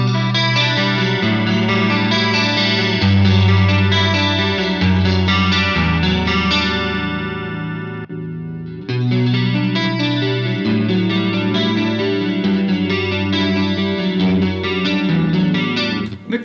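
Electric guitar played through a Marshall MG100HCFX amp, sounding full and sustained with chorus-like shimmer, chords ringing out loud and close before a brief dip near the middle and then resuming, with no talk.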